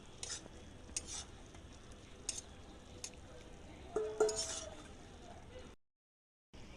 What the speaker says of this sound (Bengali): এবারে মাছের মধ্যে ভালো করে মশলাগুলো লাগিয়ে দেব।